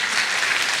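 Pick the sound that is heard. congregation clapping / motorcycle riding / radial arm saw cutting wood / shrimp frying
congregation clapping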